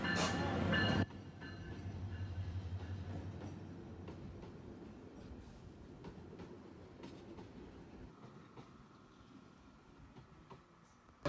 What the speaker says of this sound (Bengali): ক্রসিং শেষ, আর ট্রেন হচ্ছে ছেড়ে দিল